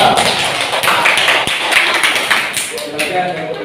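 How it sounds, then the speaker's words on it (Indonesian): Students applaud group A in an Indonesian fourth-grade classroom, a loud, dense burst of many hands clapping that keeps up for several seconds, with voices mixed in under the claps and a faint tone near the end. "Tepuk tangan untuk kelompok A"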